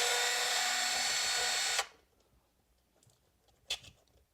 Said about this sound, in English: Take out the screw holding it into the motor bracket. Don't know if I can use the drill for this one.